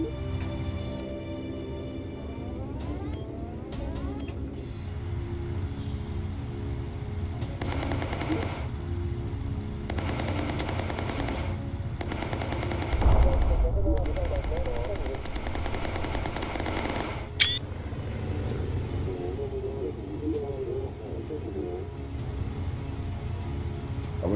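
Aircraft waist guns fire in a combat flight video game, loud bursts of machine gun fire over a constant droning engine hum, several sustained strings of shots with a sharp blast midway.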